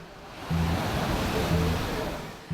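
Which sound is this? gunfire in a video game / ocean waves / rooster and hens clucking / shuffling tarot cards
ocean waves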